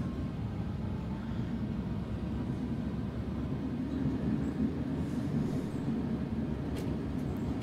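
Tram pantograph passing a trolleybus wire crossing in a tram simulator game: a steady, loud low rumble of rolling wheels and motor runs throughout, with a few faint brief clicks near the end.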